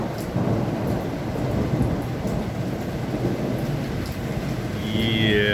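A thunderstorm in Nepean, Ontario, with dense, steady rain hissing throughout and low rumbling thunder rolling underneath, loud and continuous with no voices.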